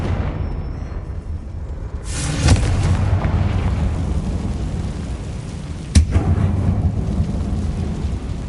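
A Confringo fire spell explosion in the Hogwarts Legacy video game, with a loud boom at about two and a half seconds and another sharp blast near six seconds over a constant rumbling background.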